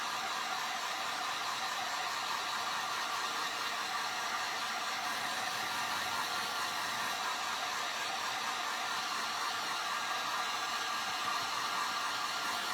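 A hair dryer blows steadily on a plastic ornament for a gingerbread-style craft, a constant close whooshing hiss with no break and no talking.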